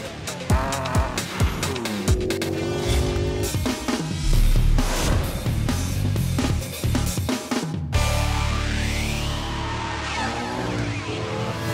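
A Hyundai Genesis Coupe race car at Pikes Peak roars loudly in bursts, with sharp revving and shifts, then a rising engine pitch as it pulls away, with no talking.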